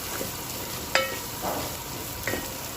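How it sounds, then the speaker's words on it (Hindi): Tomatoes frying in a pan with green chillies for a potato and eggplant dish, an even hiss of sizzling oil with a couple of brief stirring scrapes, close by and without speech. "अच्छी तरह टमाटर को डाल कर हम अच्छी तरह भून लेंगे"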